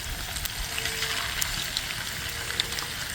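Pork chop sizzling over a fast riverside fire, a steady close crackling hiss with scattered small pops throughout.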